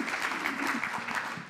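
Steady applause from an audience at a Jugend hackt youth hackathon in Munich, a dense, even patter of many hands clapping with a faint voice underneath.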